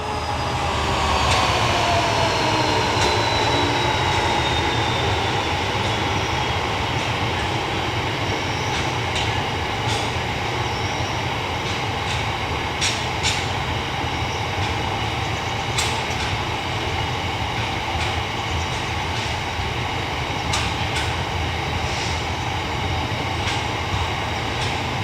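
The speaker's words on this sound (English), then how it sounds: "I didn't expect to catch a freight train today heading towards the quarry." A freight train heading towards a quarry rumbles past continuously and loudly, wheels clattering with sharp metallic clicks and squeals over a steady low roar throughout.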